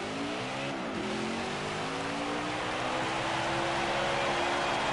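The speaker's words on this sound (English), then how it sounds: "we gotta do one of the best burnouts known to man" Race truck doing a burnout at Bristol in the NASCAR Heat 5 truck series game, a loud steady engine roar held at high revs with gliding harmonic pitch changes, continuous for the whole stretch.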